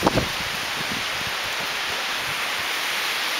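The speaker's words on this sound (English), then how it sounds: "But it is pretty windy out here right now." Strong spring wind storm roaring through tall eucalyptus trees in a garden, a steady broadband rushing hiss that fills the clip after a couple of brief knocks at the start.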